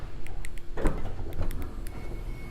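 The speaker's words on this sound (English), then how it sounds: "Power sliding doors on both sides of the van." A power sliding door on a 2017 Chrysler Pacifica van runs with a faint motor hum and a soft latch thunk partway through, quiet and close.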